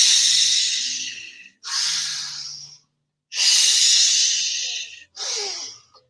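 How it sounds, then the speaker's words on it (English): Deep, audible breaths during a guided breathing exercise, four long airy inhales and exhales in a slow, even rhythm, close and clear with short silent pauses between them. "Inhale, open."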